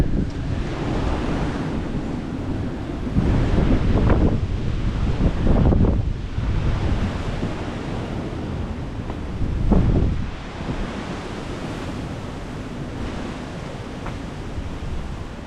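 Heavy wind buffets the microphone in rumbling gusts on the Patagonian coast at Puerto Natales, Chile, with surf washing steadily beneath it; the gusts swell louder around the middle.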